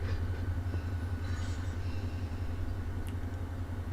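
A train running in Run8 Train Simulator V3 gives a steady low rumble that continues unbroken, with faint clanks above it.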